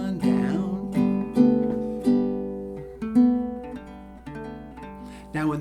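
A baritone guitar picks the verse riff of a song, a string of plucked notes and ringing chords with clear attacks and decays, close and unaccompanied with no talking.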